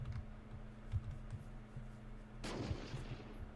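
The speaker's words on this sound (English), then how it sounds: "The time of explosion is always the same." A grenade explosion in the video game Unturned bursts out suddenly partway through, a single loud broadband blast over a steady low hum and faint background clicks.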